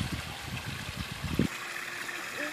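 A garden hose sprays water onto grass in a steady, close hissing rush with gurgling pulses, then cuts off abruptly about halfway through, leaving only quiet background.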